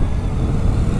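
Zero S electric motorbike under way at speed, giving a steady, faint motor whine mixed with broad road and wind rumble for a continuous second.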